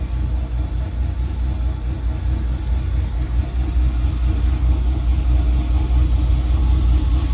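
A tuned car engine idles steadily after startup, its RPM flare easing down toward the target idle, heard as a constant close low rumble with little variation throughout and no voices.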